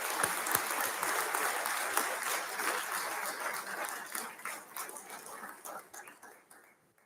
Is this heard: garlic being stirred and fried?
no